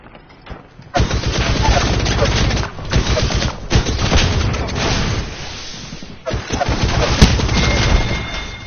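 Bursts of gunfire and a grenade blast in a fast Apex Legends firefight, with rapid loud volleys running nearly the whole time and a sharp bang near the end, while a player's voice breaks in at moments.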